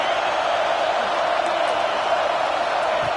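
A dense, roaring stadium crowd in an NCAA college football video game fills the air as a constant, loud wash of noise with no breaks.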